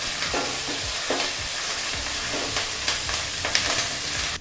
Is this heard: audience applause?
no